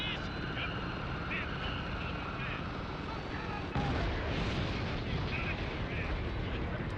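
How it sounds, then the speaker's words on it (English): Gunfire in the video game Spec Ops: The Line, a dense continuous barrage of shots and explosions with a heavier burst partway through, loud and steady throughout. "Who else is shooting us?"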